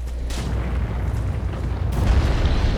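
An explosion in Dark Souls 3: Ashes of Ariandel, triggered by an arrow: a dense, rumbling low boom that holds steady, then swells louder and rougher near the end, with no voices.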